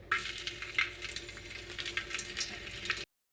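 Garlic dropped into a ladle of hot oil for a Maharashtrian dal tempering sizzles and crackles steadily and close up for about three seconds, with no voices over it.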